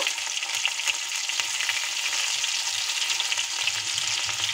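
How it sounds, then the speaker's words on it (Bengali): Cumin seeds and ginger go into hot oil left over from frying pangas fish and sizzle hard. The sound is a dense, steady crackling hiss with small spits and a faint stirring scrape, heard close with no talk. "যে তেলের মধ্যে মাছ ভেজেছি সেই তেলের মধ্যে আমি দিয়ে দিচ্ছি জিরে ফোড়ন, দিয়ে দিচ্ছি আদা"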